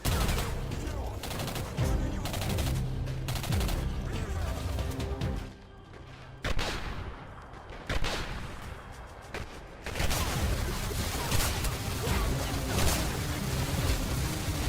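Bursts of gunfire from a sci-fi shooter video game rattle loudly in rapid fusillades, broken by short lulls and single heavy shots, with game sounds and occasional voices mixed underneath.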